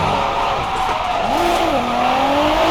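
In a drifting racing game, a car with about 500 horsepower drifts with a sustained engine drone and a long tire squeal that bends upward in pitch partway through.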